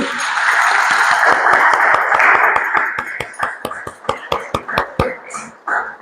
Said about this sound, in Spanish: nuevamente le brindamos un fuerte y caluroso aplauso